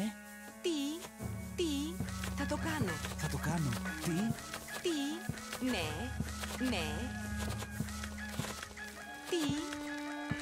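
Chickens cluck and crow in the Empires Apart strategy game, repeated bird calls against a humming backdrop with chiming effects, while a person talks over them.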